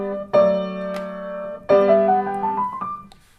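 A piano plays the opening bar of Mozart's Sonata K283: two struck chords with ringing tones, then a short rising run of notes that fades out.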